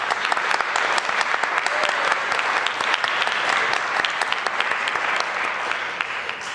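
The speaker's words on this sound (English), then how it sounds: "big round of applause for all of you." Steady, dense audience applause closes out a high school and college public forum debate event, sustained clapping from a sizable crowd at close range, fading slightly toward the end.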